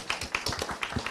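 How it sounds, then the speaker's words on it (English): An audience claps at a British Science Week Question Time event, with a brief burst of sharp, irregular hand claps, moderately loud and with no talking. "we can clap"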